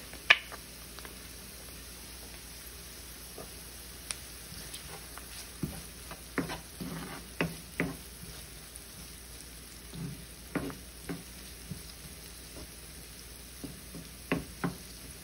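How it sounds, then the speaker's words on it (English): Garlic cooking in a pan over medium-low heat for Cajun shrimp and sausage pasta: a faint, steady sizzle under a series of light knocks and taps of a spoon stirring. "now I'm gonna go in with my garlic"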